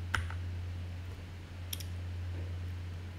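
A computer mouse clicks on the Simulink icon, two quick faint clicks a second or so apart over a steady low electrical hum in a quiet room.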